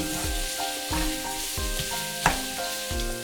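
Sugar and garlic sizzling together in a hot pan while cooking Chinese braised pork belly, a steady close frying hiss with occasional stirring scrapes and a sharp clack near the middle.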